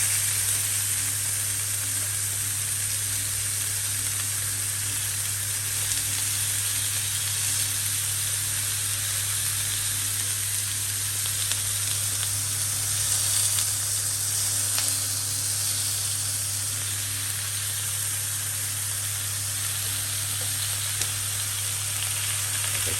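Large marinated beef pieces for barbecue frying in hot oil in a pan, giving a loud, steady, continuous sizzle that runs unbroken throughout with no talking.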